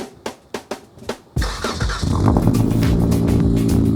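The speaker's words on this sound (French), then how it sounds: "Le ralenti c'est quand t'accélères pas et juste t'entends le moteur qui fait bon." An American car in Dubai is started by remote key: several sharp clicking starter pulses, then the engine catches with a loud burst and settles into a steady, rumbling idle.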